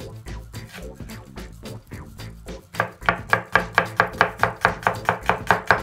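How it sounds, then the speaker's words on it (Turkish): An onion is chopped with a knife, first in quieter irregular cuts, then a fast, even run of sharp, close taps on a cutting board, with no talk. "Ardından soğanlarımızı doğruyoruz."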